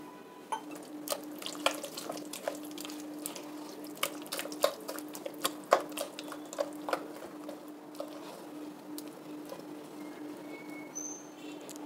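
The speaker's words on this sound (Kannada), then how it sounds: "ಸ್ವಲ್ಪ ನೀರು ಹಾಕ್ತೀನಿ" Water poured into dosa batter of ground rice mixed with rice porridge, heard up close as soft splashes and scattered wet clicks of stirring over a quiet background, with no talking.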